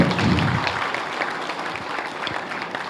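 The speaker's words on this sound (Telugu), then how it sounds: "మోగించండి మీ చప్పట్ల" An audience at a theatre event claps after a stage play, dense steady applause that starts loud and eases slightly, with a faint voice briefly at the start.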